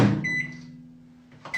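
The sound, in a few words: microwave oven melting Terry's chocolate orange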